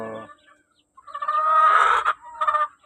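An Elgama Grey gamefowl rooster gives a brief harsh clucking call, then a sustained loud crowing-like squawk and a short final burst, close and clear against a quiet background.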